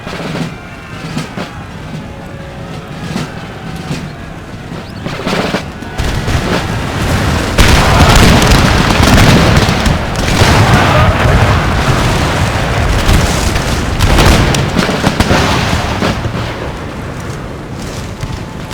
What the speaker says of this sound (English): I think my cannon got some friendly fire there.